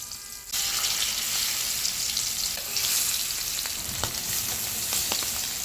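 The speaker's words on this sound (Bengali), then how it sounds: "তেলটা গরম হয়ে আসলে একে একে মাছগুলো সব দিয়ে দেব।" Pieces of hilsa fish hit hot oil in a frying pan and sizzle steadily and crisply close by, the hiss starting abruptly and continuing with small pops and crackles, no voices.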